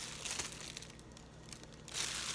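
Close, dry crinkling of a plastic bag, with soft rustles and a louder crackling burst near the end.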